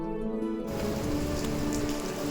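Steady rain pattering on a surface, a dense, constant hiss of drops that swells in after a brief quieter moment, with no voices.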